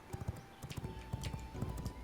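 Horse hooves clip-clop at a steady walking rhythm in the V Rising video game, a moderately close, soft series of hoof falls with a faint tonal hum in the background.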